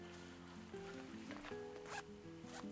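Zips on the side pockets of a Fjallraven Polar fleece jacket are worked open and shut up close, giving several quick ratcheting zipper runs in bursts with short gaps between them.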